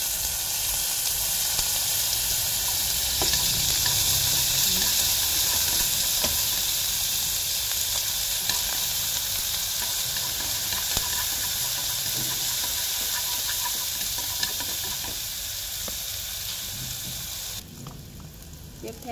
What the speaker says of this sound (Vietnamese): Tiếp theo sẽ cho hết phần gốc hành vào để mình phi cho nó thật là thơm lên.